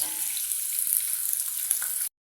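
Steady, crackling sizzle of onions frying in a hot pan for beef biryani, close and continuous, cutting off abruptly.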